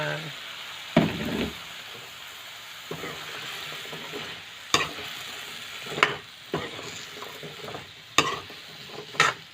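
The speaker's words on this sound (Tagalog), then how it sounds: "Dagdag natin ang ating kalabasa." Sliced kalabasa squash sizzles and fries in a pan, a steady hiss broken by sharp scraping stir strokes and clacks of a utensil against the metal.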